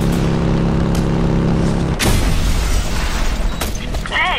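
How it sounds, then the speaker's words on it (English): A biofuel shaft explodes in the Just Cause 2 video game: a loud, dense roar of blasts and debris, with a sharp burst midway and another near the end over continuous rumbling. "If you make use of that biofuel shaft, you can cause quite an explosion."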